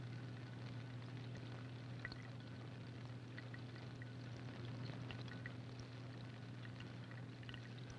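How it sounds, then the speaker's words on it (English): Steady fine bubbling of water during electrolysis as gases form at the electrodes, faint and continuous with small pops over a low hum, no voices. "the bubbling is the result not of a physical change in the water, but of a chemical change. Gases are forming at each electrode."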